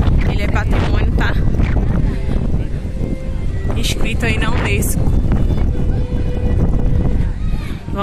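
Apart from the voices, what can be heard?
strong wind blowing at Belém Tower, Lisbon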